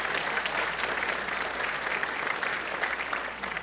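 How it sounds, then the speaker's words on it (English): Audience at a Holocaust awareness gathering gives a warm round of clapping for two leaders, dense and steady throughout and easing only slightly at the close, with no voices over it. "One more round of applause for our two leaders."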